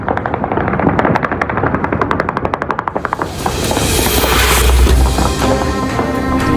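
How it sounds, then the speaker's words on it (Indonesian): Rapid bursts of automatic gunfire fired into the air in celebration across Beirut crackle repeatedly, then give way to a dense, echoing wash of shots and booms from many directions. "Warga melepaskan tembakan bertubi-tubi ke udara"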